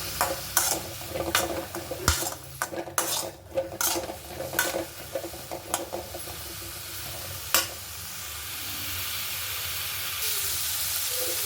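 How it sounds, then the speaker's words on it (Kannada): Bitter gourd roasting in a pan for a tamarind gojju, a steady close sizzle broken by sharp stirring scrapes and clinks in the first half, then a smoother continuous frying hiss. "ಫಸ್ಟು ರೋಸ್ಟ್ ಮಾಡ್ಕೊಳ್ಳಿ ಹಾಗಲಕಾಯಿ."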